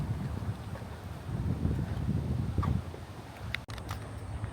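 Steady gusting wind buffeting the microphone with a low rumble, plus a few faint clicks and brief higher sounds toward the end.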